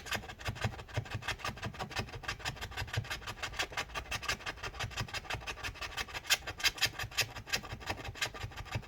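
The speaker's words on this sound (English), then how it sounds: "start scraping this stuff up" Rapid rhythmic scraping of old battery adhesive inside a 15-inch early 2013 MacBook Pro A1398, a quiet close-up scratchy rasp repeating in quick strokes with no talk.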